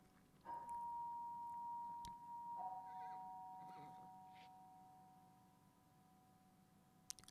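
A doorbell in the game Alfred Hitchcock Vertigo rings with two pure sustained tones, the first followed a couple of seconds later by a lower one, both slowly fading out, faint and alone.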